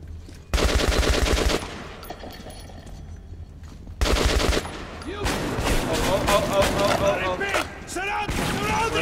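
Gunfire in Metro 2033 Redux, two loud, dense bursts of automatic fire a few seconds apart, then a busier stretch of shots and game noise with a voice talking over it.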